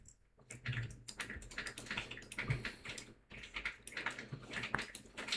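Commands being typed on a computer keyboard make a quick, irregular patter of soft key clicks, close and fairly quiet, with brief pauses between bursts.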